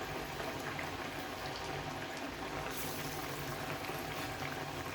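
Dal vadas frying in hot oil in a kadai, a constant, dense bubbling sizzle heard close and loud without pause for the whole stretch.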